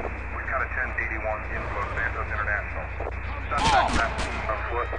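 Gunfire in the video game GTA San Andreas, with game music and shouting voices running throughout and a louder burst of shots near the end.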